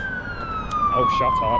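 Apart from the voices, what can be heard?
ambulance siren passing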